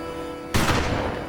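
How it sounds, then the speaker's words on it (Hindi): Gunfire at what sounds like a wedding celebration: quiet room tone, then an abrupt loud burst of shots and crackling reports that keeps going to the end. "बस गोलियां चलाई जा रही है"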